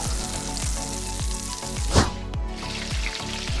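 Oil and ingredients sizzle and fry in a wok for Hong Kong-style Yangzhou fried rice, a steady loud crackle with rhythmic scraping stir strokes and one sharper burst midway, no talking.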